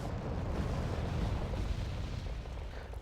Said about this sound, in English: On top of that, we have a lot of artillery falling.